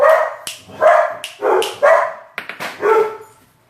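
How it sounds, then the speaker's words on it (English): Dogs bark in a home kitchen, several loud, close barks and yips coming in uneven bursts, with no voices over them. "Oh, dogs."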